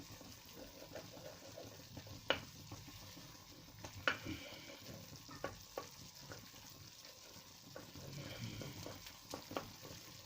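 Kuymak, the Black Sea cornmeal and butter dish, stirred in a pan over steady frying sizzle, with scattered scraping knocks of the spoon against the pan and no talking.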